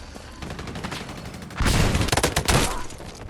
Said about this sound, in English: I can actually tell the distance from this gun, the anti-air rifle gun